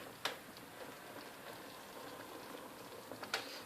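Quiet bubbling and soft popping of milk and paneer simmering in a pan, a steady low patter with a couple of sharper pops.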